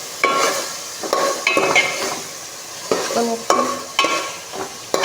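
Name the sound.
stirring ash gourd frying in spice paste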